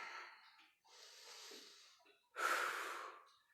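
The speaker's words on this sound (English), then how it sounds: "Some good solid breathing." Heavy breathing during a home workout exercise, several loud, forceful breaths close to the mic with gaps between them and no talking.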